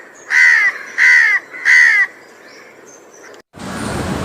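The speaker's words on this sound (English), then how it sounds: "House crows are quite friendly, intelligent, highly misjudged species of birds" A house crow gives three loud, harsh caws in an even rhythm, close and clear, in an urban forest setting in Mumbai, followed by a burst of broadband noise.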